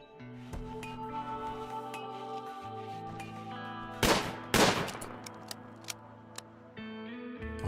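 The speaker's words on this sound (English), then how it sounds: "It always scares me when I hear a gunshot with no idea why." Gunfire in the space-colony video game Rimworld sounds as two sharp shots in quick succession midway through, heard over steady background music and followed by a few faint clicks.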